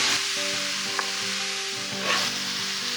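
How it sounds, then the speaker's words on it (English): Garlic sautéing in a pan for red wine mushroom polenta crackles in a loud, close, continuous sizzle, with a brief stir partway through and no talking. "what I'm gonna do now is I'm gonna add my garlic in."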